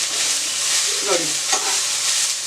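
Coriander leaves with their stems fry in a pan for chicken chops, making a continuous, close sizzle with a few brief stirring scrapes and no talking.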